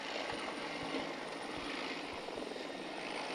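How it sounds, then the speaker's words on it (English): A helicopter takes off at a snowy alpine freeride venue in the Kitzbüheler Alpen, its rotor beating as a steady, fairly distant whir under a broad wash of wind-like noise. "as you can see, the helicopter taking off there"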